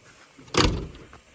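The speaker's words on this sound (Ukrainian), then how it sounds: "послухайте, як на Камазі двері закриваються." A KamAZ truck door swings shut with a single solid, heavy metallic thunk close by, followed by a brief rattling decay and quiet background.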